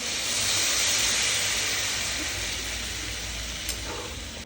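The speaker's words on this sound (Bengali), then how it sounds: "এবার একটু পরিমাণ মতন জল দিয়ে" Water poured into a pan of sizzling chickpea masala on a home stove, giving a loud, steady steamy hiss and sizzle that slowly fades, with no talking.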